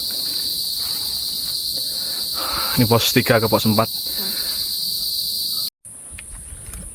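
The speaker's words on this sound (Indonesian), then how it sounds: "jangkrik alam terdengar ya" Crickets chirp in a continuous high, steady trill in the forest on Mount Ungaran, loud and close, while someone speaks briefly partway through and the insect drone continues after a short cut.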